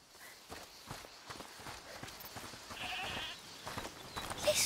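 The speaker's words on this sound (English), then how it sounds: "Listen. Is that the goat you talked about?" In the video game A Plague Tale: Requiem, a goat bleats briefly at moderate distance over a steady patter of footsteps moving through a quiet scene.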